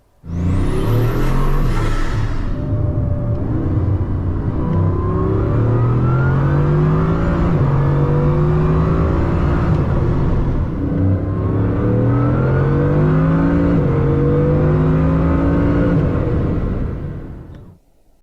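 Formula One race cars at a raceway, engines loud and close, whining and revving through rising and falling gear changes for about seventeen seconds before cutting off.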